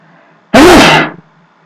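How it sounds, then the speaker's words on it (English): A single sharp, loud sneeze bursts out close to the mic during a sports talk show, tapering off over about half a second against a quiet room hum. "I'm going to sneeze."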